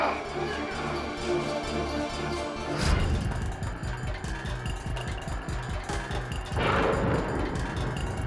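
A heavy rumbling crash of thunder from a lightning strike rolls in, swelling into a loud, broad boom, with a second surge following a few seconds later.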